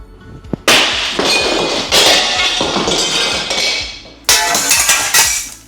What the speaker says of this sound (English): Breaking glass with shorts on.